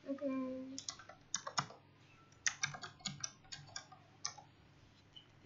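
Keys clatter on a computer keyboard as a web address is typed, irregular clicks in short bursts, close and fairly quiet in a calm room.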